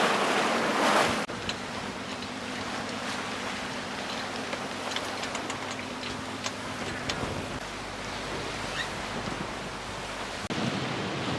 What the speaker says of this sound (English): We've got some quite rolly waves.